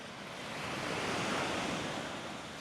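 Lake waves lap and wash at the shore at Sleeping Bear Dunes, a steady surf rush that builds and eases, mixed with wind buffeting the microphone and no voices.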